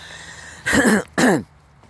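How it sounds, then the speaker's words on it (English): Two loud, close coughs in quick succession, each a short harsh burst, separated by a brief pause in an otherwise quiet room. "I meant to say I gotta cough"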